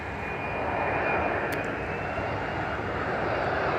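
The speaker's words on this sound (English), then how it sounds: "Let's watch this plane." A jet airplane passing overhead makes a steady, fairly loud broadband roar that holds evenly for several seconds, with no one talking.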